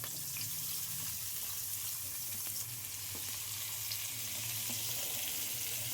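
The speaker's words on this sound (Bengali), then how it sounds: "তেল গরম হয়ে যাওয়ার পরে আমাদের পেঁয়াজ কুচি দিয়ে দিচ্ছি।" Chopped onion frying in hot oil in a wok, with a steady, close sizzle and crackle running evenly throughout and no voices.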